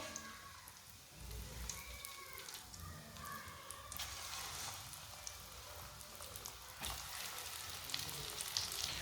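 Breadcrumbed chicken kebabs fry in hot oil, a steady crackling sizzle that runs throughout at moderate level, with brief clinks and stirring sounds and no speech.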